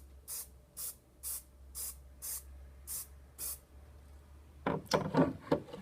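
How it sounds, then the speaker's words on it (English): An aerosol paint can sprays a coat onto a white UPVC profile in seven short, evenly spaced hissing bursts, followed by a brief louder cluster of rubbing and handling noises. "from about 30 centimetres away I'm just going to spray a coat"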